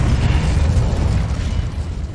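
Incendio fire spell cast in Hogwarts Legacy: a sustained, loud roaring whoosh of flame with heavy low rumble, dense and continuous for a couple of seconds, no voices.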